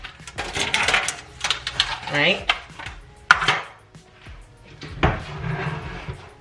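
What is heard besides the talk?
handling stove top covers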